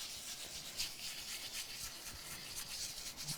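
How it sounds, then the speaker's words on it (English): A tool rubs paper down onto an exposed snowflake area of a handmade Christmas card, producing a soft, continuous scratchy rubbing in short strokes, close and quiet. "We'll just burnish that into that exposed snowflake area."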